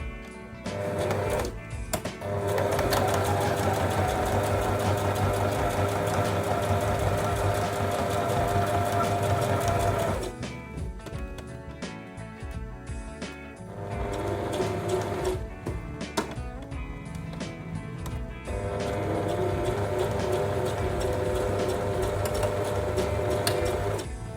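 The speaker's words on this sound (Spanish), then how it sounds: "Queremos un pespunte para aplastar esta costura y que no se infle" A sewing machine topstitches a seam flat on a garment bib, running in long steady bursts with brief pauses between them, loud and close with no talk.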